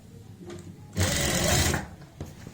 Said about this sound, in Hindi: अब हम सीधी साइड में यहाँ पे सिलाई लगाएंगे